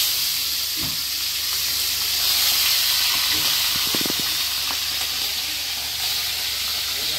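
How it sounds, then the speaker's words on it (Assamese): Lemon-marinated fish frying in hot oil, a steady loud sizzle and hiss throughout, with a few faint clinks and small utensil sounds in between. "এইখিনি তেলত, গৰম তেলত ফ্ৰাই কৰিম"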